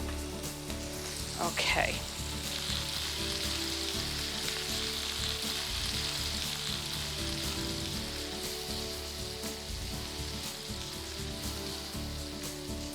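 Meatballs brown in a hot pan with a steady, dense sizzle and crackle lasting throughout, broken near the start by a brief scrape or stir, and a voice speaks once briefly over it.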